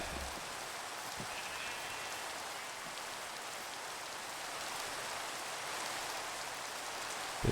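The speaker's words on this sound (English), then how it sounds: "Is it raining? I think it's raining." Steady rain in the Minecraft video game, a constant soft hiss of falling drops holding at one even, fairly quiet level throughout.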